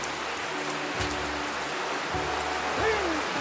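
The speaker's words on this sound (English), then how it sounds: "Enjoy the rain." Steady rain hisses and patters on surfaces nearby in Apuseni Natural Park, with a faint low hum and a brief whine passing in the background.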